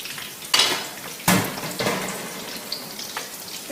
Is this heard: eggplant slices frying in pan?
yes